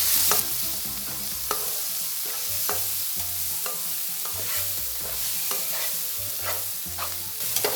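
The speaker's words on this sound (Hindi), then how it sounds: "टमाटर, हरी मिर्चें, धनिया, मसाला डाल के 2 मिनट के लिए इसे हम भून लेंगे।" Tomatoes, green chillies, coriander and spices frying in a pan for anda ghotala over a medium flame: a continuous sizzle broken by repeated scraping strokes of a spoon stirring, close and steady, with no voices.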